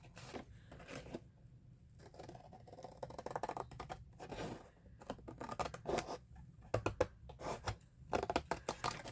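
Scissors snip through paper while a mini journal is taken apart, giving a string of short, dry cutting bursts at moderate distance with quiet pauses and no talking.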